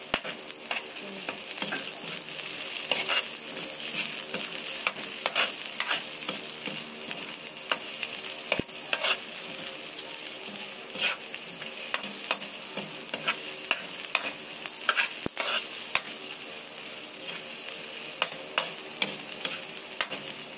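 Onion sizzles and crackles in a hot pan for vegetable kare kare with tofu, a steady bright frying hiss broken by scraping stirs and small ticks, close and continuous with no voices.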